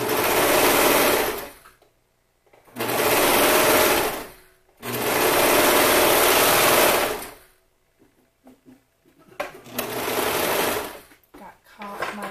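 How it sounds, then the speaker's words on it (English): Serger sewing machine stitching a 3/8-inch seam on fabric for a sports bra, running in four loud, steady, close bursts separated by short pauses with faint handling noises. "I'm going to serge at that 3/8 seam allowance."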